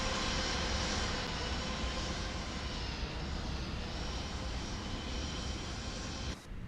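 Aircraft engines drone in a video game cockpit, a loud, steady roar with a broad hiss that holds without pause before dipping briefly at the end.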